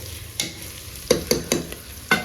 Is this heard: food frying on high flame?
yes